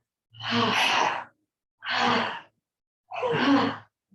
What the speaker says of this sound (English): And breathing out 3 times.